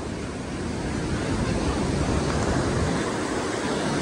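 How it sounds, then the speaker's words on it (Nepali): Strong wind roars across a misty hillside path to a cattle shed, a loud, constant rushing buffet against the microphone that builds slightly and holds steady without pause. "तेज हावा आयो"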